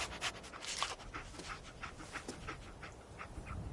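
Dogmeat, the German shepherd companion in the video game Fallout 4, pants in rapid breathy bursts that run steadily throughout, close and moderately loud over a low ambient game backdrop.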